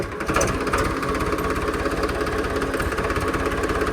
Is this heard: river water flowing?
no